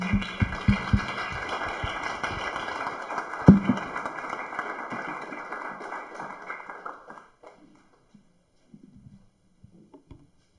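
An audience applauding a talk by the CEO and founder of JamboPay, a clatter of many hands that swells briefly, then thins out and fades to a few scattered claps and near silence.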